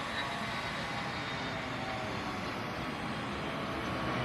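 Private jet taking off from runway 21 on a gloomy morning, a steady broad engine roar heard from a distance, continuous and even throughout without talking.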